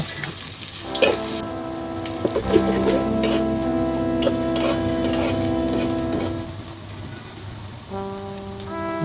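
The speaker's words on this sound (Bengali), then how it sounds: "প্রথমে তেল দিয়ে দিলাম, পেঁয়াজ কুচি, পেঁয়াজটা হালকা একটু ভেজে নেব।" Chopped onions fry in oil in a pan, a bright sizzling hiss with clattering utensil knocks and a sustained ringing hum under it, fairly loud and close.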